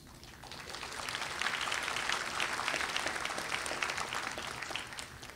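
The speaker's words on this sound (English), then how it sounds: "That's a little too close to a golf clap." Steady applause from a graduation crowd at Columbia Southern University's 2013 ceremony, a continuous wash of moderate-volume clapping without cheers that swells slightly and holds.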